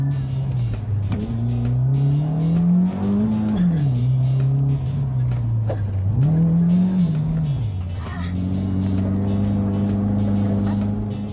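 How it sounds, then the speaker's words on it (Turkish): A modified car drifting through city streets, heard from inside the car: a loud, droning engine rises and falls in pitch through repeated revs, with tire squeal mixed in. "Modifiye aracıyla şehir içinde yanlama şovu yapan kadın"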